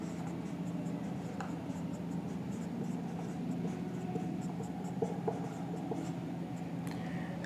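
Steady scratching of a pen writing by hand, likely on paper or a board while working a class 12 accounts problem on share issues, continuous and close with a low room hum and no talking.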